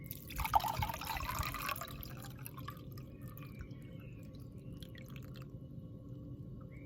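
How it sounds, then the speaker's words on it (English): Water splashes and trickles into a glass for a couple of seconds, then settles to a faint steady hiss. "Pour in the water."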